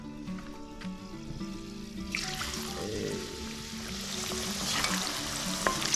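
Soaked dal dropped into hot oil for dalmoth, bursting into a rising, close sizzle after a quiet start, with soft clinks from a utensil.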